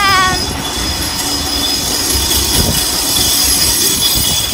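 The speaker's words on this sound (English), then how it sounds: "And that's the tram." A tram runs past on its rails in Surfers Paradise, a loud, steady rumble with high wheel squeal throughout, heard close by with no talk over it.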